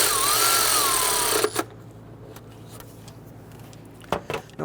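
Bracket bolts on a 2011-2017 Nissan Quest 3.5L V6 engine are tightened with a power tool: one sustained, rising whine, then a pause with faint clicks, followed by short metallic ratcheting bursts near the end, close up.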